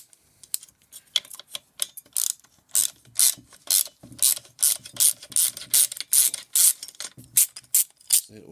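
A socket ratchet clicks in rapid, irregular bursts while undoing bolts on a McCulloch strimmer engine during piston removal, close and crisp with short pauses between strokes and no talking.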